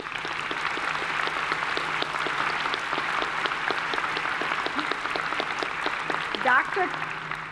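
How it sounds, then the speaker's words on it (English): An audience at a university commencement claps steadily in a sustained round of applause, sharp individual claps mixed with a few voices rising near the end. "Congratulations and a big round of applause for Professor Christ and Professor Kuiper."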